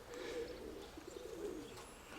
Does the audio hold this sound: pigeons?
yes